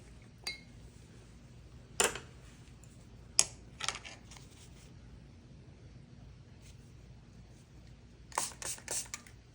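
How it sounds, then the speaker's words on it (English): Spray bottle spritzing gouache paint in a warm painting studio, a few short sharp spritzes spaced apart, then a quick burst of three near the end, over a quiet room. "I am spraying my paint down a little bit."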